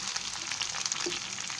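Onion paste frying in a pan for prawn malai curry, giving a continuous close hiss and crackle of sizzling oil with faint stirring, no voices.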